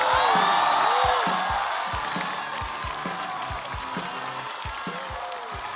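A studio comedy audience applauds and cheers for a stand-up comedian, with a loud burst of clapping and whoops at the start that settles into steady applause.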